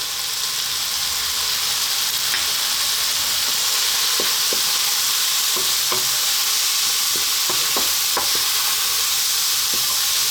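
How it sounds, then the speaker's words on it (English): Spices of turmeric, chili, cumin and coriander are stirred into beef curry frying in a pan with salt, giving a steady close sizzle with scattered scraping taps of the spoon and no talking. "Let's get those lovely spices mixed in."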